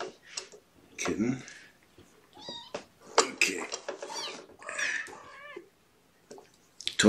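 Kittens at a weigh-in meowing in short, high, wavering calls, close by and mixed with a person talking and handling noise in between.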